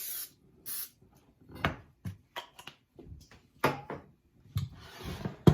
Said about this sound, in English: Spray our casserole dish.